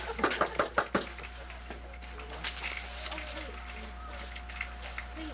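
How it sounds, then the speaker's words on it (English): Knocking on a front door, a quick series of about six sharp raps close by, followed by a quieter stretch of indoor background with faint voices. "Why don't we knock on the door and have him read the letter?"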